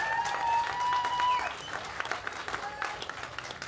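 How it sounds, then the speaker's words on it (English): Audience applause at a live political Q&A forum, a dense wash of clapping that swells early and then thins into scattered claps, with crowd noise and some voices underneath. "but you were clapping"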